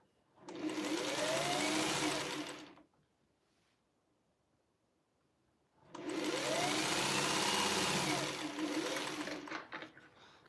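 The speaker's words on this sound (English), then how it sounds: "I've been sitting here sewing without any bobbin" A sewing machine runs without a bobbin in two steady whirring bursts of about two and a half and four and a half seconds, separated by a short quiet pause.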